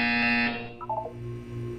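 A buzzer in the video game Portal 2 sounds a loud, steady electronic tone for about half a second, followed by fainter beeping tones.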